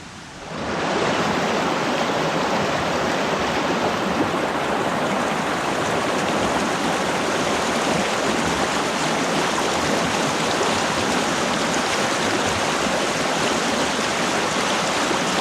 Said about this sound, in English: The trail winds its way along Old Spring Creek.